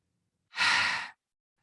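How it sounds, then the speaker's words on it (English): A single long sigh-like breath, pushed out through the throat while closing a yoga class, rises and fades over about half a second in otherwise quiet surroundings. "Let's draw in a few unifying breaths together, inhaling through the nose and exhaling from the throat."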